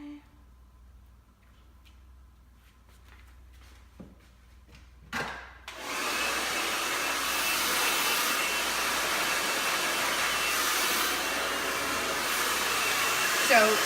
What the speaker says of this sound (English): So with doing the blow dry